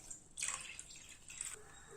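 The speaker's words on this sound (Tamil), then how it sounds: "இப்போ ஒரு பாத்திரத்தில் 1 லிட்டர் பால் ஊற்றிக்கோங்க." One litre of cow's milk is poured into a cooking vessel, making a soft, close trickling and splashing in two short bursts with faint drips between them and no talking.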